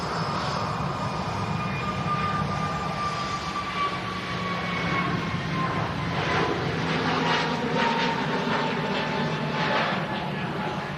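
An Airbus A321neo jet rolls and lifts off in a steady, loud engine roar with a whining tone that slowly shifts in pitch, heard from a distance outdoors with faint voices nearby.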